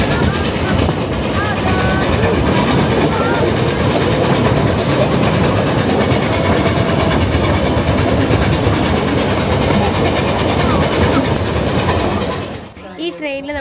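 Inside the Puffing Billy heritage steam train heading back to Belgrave near Melbourne, the carriage gives off a loud, steady rumble and rattle of wheels on track for about twelve seconds before it drops away abruptly.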